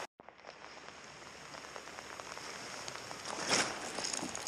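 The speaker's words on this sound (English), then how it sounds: "Nothing like 40 degrees and pouring rain." Heavy cold winter rain at about 40 degrees pours down steadily in a dense, hissing patter, close by, with occasional louder splashes and no voices.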